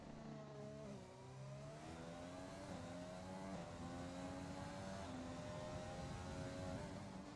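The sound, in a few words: race car engine on a hot lap in a racing video game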